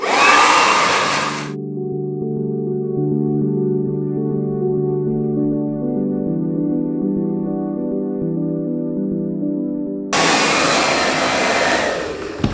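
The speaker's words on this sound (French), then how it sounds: "Donc on va sécher ses cheveux." A hair dryer blows on long hair with extensions, a steady full whoosh for the first second and a half, then stopping while soft sustained musical tones play, and starting again near the end.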